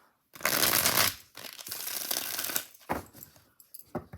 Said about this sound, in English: Let's shuffle these and see how they shuffle.